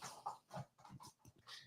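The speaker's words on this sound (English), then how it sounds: "My dog is going nuts on my crocker." A dog named Ragnar goes wild on a Croc shoe, making a quick run of snuffling grunts, huffs and small whines. The sounds are close but faint, in irregular bursts.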